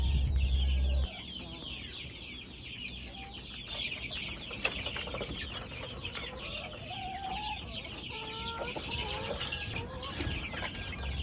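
Month-old young chickens in a backyard coop, with soft, continuous clucking and peeping from several birds close by, plus occasional louder calls over a low background.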